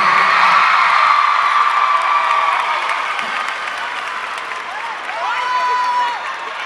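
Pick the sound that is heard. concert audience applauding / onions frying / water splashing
concert audience applauding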